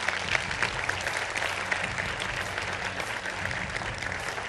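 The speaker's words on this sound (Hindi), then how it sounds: "तालियों के साथ उनका स्वागत कीजिए।" Studio audience at a televised Hindi political debate show applauding steadily and loudly, a dense continuous wash of clapping that fills the whole stretch without a break.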